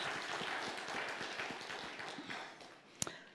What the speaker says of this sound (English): And I think that deserves a great applause.